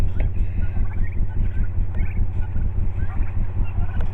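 Turkeys in a garden gobble continuously, close and loud, their warbling calls overlapping in a steady rhythm with no pause.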